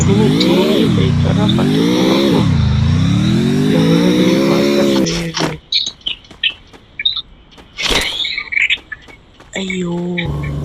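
A car in a video game revs with rising and falling engine pitch for about five seconds, then gives way to choppy game sounds and bird chirps, with a short engine burst again near the end.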